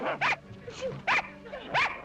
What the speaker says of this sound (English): Archie, nasty little dog